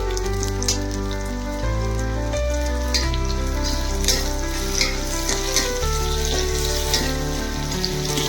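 Onion and tomato pieces fry in hot oil for a Telangana-style fish curry, giving a steady dense sizzle and crackle close by, with musical tones running underneath and no talk.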